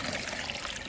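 A scoop of water is poured into a shallow container for ducklings, making a soft, continuous trickling splash that sounds faint and close.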